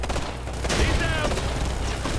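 Video-game gunfire in Ghost Recon Future Soldier, a steady burst of shots over rumbling combat noise through the whole stretch, loud and close, with a voice briefly talking over it.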